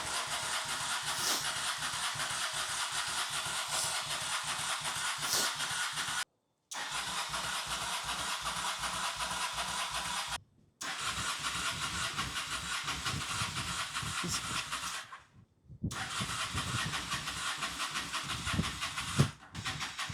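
A Honda Shadow motorcycle engine cranks repeatedly without firing, the starter whirring in several separate bursts with short gaps between them, close and moderately loud.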